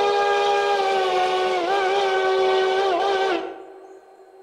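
An Eerie 5 chime steam train whistle in the video game Railroader sounds one sustained, loud, close blast with slight pitch wobbles, lasting about three and a half seconds before a soft fading tail.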